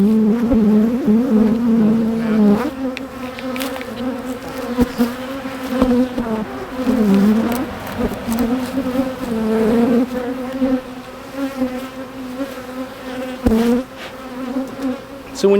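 A dense swarm of honeybees drones steadily around an open hive during an inspection, a loud continuous close-up buzz with shifting pitch as individual bees fly near, and no speech.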